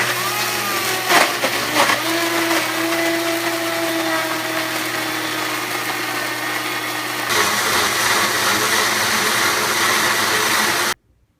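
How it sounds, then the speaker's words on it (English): A kitchen blender whirs loudly and steadily as it chops herbs, garlic and a seeded jalapeno, the motor pitch shifting slightly as the contents break down, then cutting off sharply at the end. "very simply put it in the blender."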